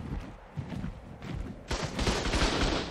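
Automated turret in ARK: Survival Evolved opening fire on a wyvern: rapid gunfire that swells into a dense, loud, continuous burst of shots over the second half, with clattering and impacts underneath.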